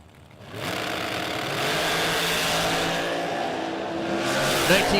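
Drag racing cars launching side by side on an eighth-mile track at a spring King of the Creek event, a loud sustained engine roar building and holding throughout, with a sharper rise near the end.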